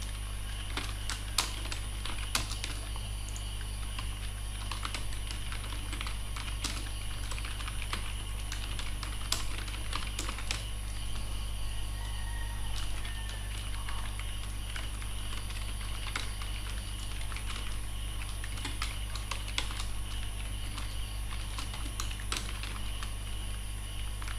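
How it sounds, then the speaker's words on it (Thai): Computer keyboard typing in a quiet room, an irregular stream of close, light key clicks over a steady low electrical hum, with no talking. "ตอนนี้ผมพิมพ์เสร็จแล้วนะครับ"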